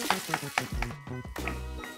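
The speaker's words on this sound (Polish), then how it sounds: "w związku z tym można zacząć smażyć mięso." Minced beef frying in a pan with onion and pepper gives a steady sizzle with stirring scrapes and clinks, close and fairly quiet, with no talk.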